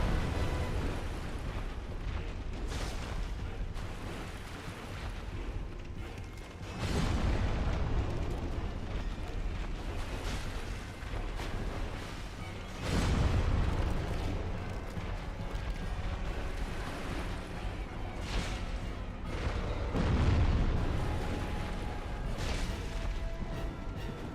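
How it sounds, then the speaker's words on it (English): An enemy's area-of-effect explosion attack in Dark Souls Remastered booms in several heavy, rumbling blasts spaced through a steady, grinding game soundscape, each swelling loud and close before fading. "he's doing the AoE explosion."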